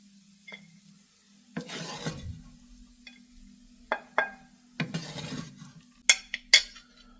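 Fried rice is scooped from a pan and served onto a plate, with scraping and stirring strokes from a metal utensil, sharp clinks against the dish and a low steady hum underneath, no talk.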